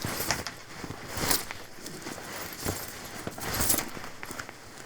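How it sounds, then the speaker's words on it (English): Rough raw Foley movement, with soft cloth rustles and shuffling handling noises in uneven bursts, close and fairly quiet, with no voices. "I've also got an audio track in the session with some roughly recorded Foley movement sound on it."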